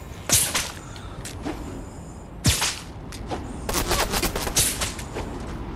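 Gunfire in the video game Fortnite: a few sharp, loud cracks spaced apart, then a quicker burst of shots near the end, over steady background game noise.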